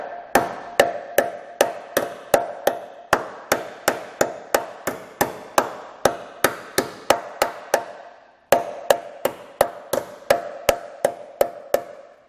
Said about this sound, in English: take a hammer and just kind of flatten it out a little bit more